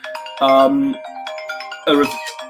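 A mobile phone ringtone chirps in two bright melodic bursts separated by a short pause, sounding close and fairly loud over a quiet room during a recorded careers discussion.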